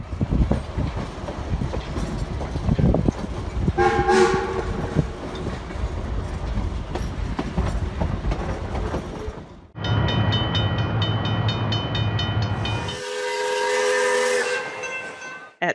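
A narrow-gauge steam train on the Durango to Silverton line rumbles and clatters steadily along the rails at close range, then gives long, loud, sustained blasts of its steam whistle.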